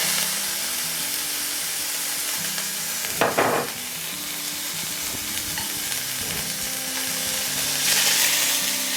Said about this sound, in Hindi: सबसे पहले हम इसको मीट को फ्राई करते हैं। सिंपली हम तेल में मीट डालेगा पहले।